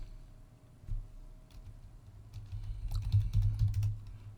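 Close, quick typing on a computer keyboard, with scattered key taps that build into a denser, louder run of keystrokes.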